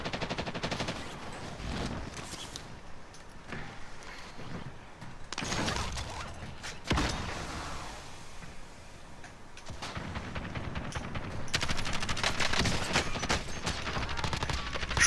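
Rapid gunfire from the video game Warzone, with dense bursts of shots and sharp cracks coming in clusters throughout, loud and continuous alongside game effects.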